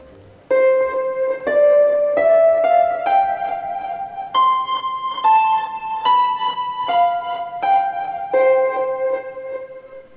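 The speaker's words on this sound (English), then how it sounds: "for vanilla legendaries we have the Minstrel Harp, which sounds like this." A plucked harp, the Minstrel Harp legendary instrument from Guild Wars 2, plays a slow, bright melody of single ringing notes stepping up and down, clear and close with no voices.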